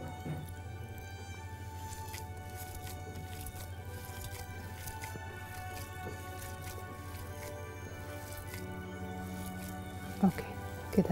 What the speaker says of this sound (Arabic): هبتدي اخلطهم مع بعض، وهنحط شوية مية بصل زي ما نحتاج